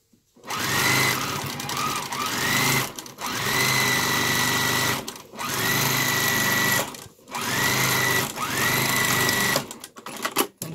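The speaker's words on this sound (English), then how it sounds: "And sew all the way." A sewing machine stitches a French seam on a hooded towel in four long, steady bursts of rapid mechanical whirring, each starting and stopping abruptly with short quiet gaps between, loud and close.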